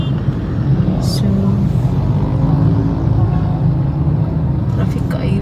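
Night highway traffic in Cagayan de Oro, a continuous low rumble of passing cars and engines with a brief higher hiss, while people talk over it.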